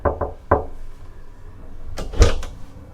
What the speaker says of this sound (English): but we'll knock and hope for the best